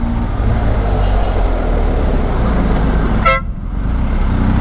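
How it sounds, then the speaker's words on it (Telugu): A BMW GS motorcycle's horn blares once in a short, loud, piercing honk over a constant low engine and road rumble. "ఇంకొక హార్న్ కూడా పెట్టుకోవాలి చిన్నగా వచ్చేలాగా. ఇది మరీ లౌడ్ ఉంది"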